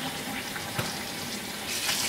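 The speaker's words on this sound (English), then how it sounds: "It is now time to rinse the yarn with lukewarm water" Tap water runs over dyed yarn during a lukewarm rinse, a steady close-up gush from the faucet that continues evenly throughout with a brief splash near the start.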